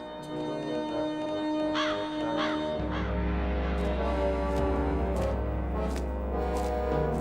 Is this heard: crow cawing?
yes